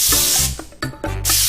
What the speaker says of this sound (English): I'm going to spray some non-stick